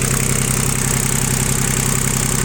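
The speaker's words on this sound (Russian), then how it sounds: "Очень прилично двигатель себя ощущает." Iseki TU 1700 three-cylinder Japanese tractor, fitted with a rotary tiller, idles steadily with a loud, continuous low rumble and an even throbbing pulse heard close up.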